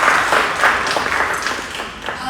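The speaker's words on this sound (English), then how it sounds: "please, give a applause to students" An audience applauds students at an academic event on law and global order, steady clapping through the moment with some voices underneath.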